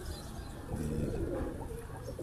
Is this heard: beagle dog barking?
no